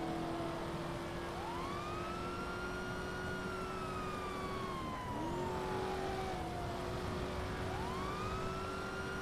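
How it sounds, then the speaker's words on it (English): Police car siren in GTA V on the NoPixel roleplay server, wailing and sweeping up and down continuously at moderate distance with steady engine and road noise underneath. "Turn your lights and sirens on."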